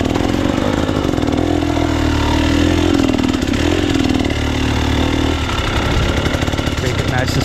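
A dirt bike engine labors at low speed through a tricky hard enduro section, a loud, close, uneven blatting with revs that rise and fall under a rider's talk.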